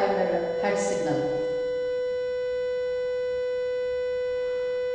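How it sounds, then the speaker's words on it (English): Steady 500 Hz sine test tone, a pure unwavering pitch holding for the full length, with a brief voice at the very start before the tone continues alone. "Now 500 Hz. This is the sine wave signal."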